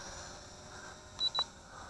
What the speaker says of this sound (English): One beep is recording, 2 beeps is off.